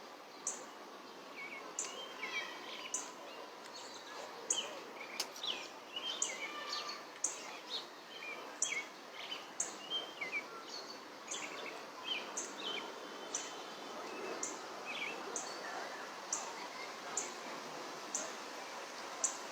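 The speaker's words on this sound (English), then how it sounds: "Feel the birds singing." Birds chirp and tweet outdoors in a steady, repeating pattern of short high calls over a soft background hiss, moderately distant, with no talking.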